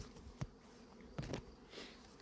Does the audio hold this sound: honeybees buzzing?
yes